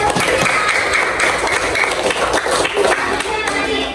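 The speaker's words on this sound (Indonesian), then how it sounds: "Nah, tepuk tangan dulu" Schoolchildren in a fifth-grade classroom clap together in a lively, sustained round, close and loud, with a few scattered voices mixed in.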